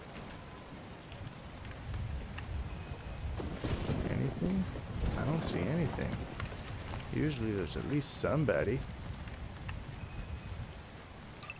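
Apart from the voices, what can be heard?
rain in the video game ZombiU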